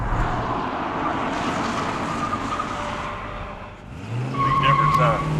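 A Pontiac GTO muscle car brakes hard, and its tires skid and squeal for several seconds over a roaring engine. It is loud and close, with no talk over it.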